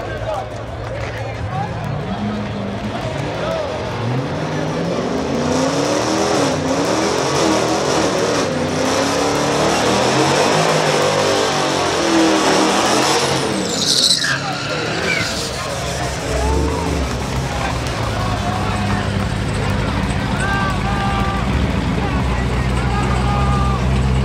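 A Hellcat drag racing a turbocharged sixth-generation car at a drag event, with loud revving engines and a rising roar amid crowd babble and people talking nearby.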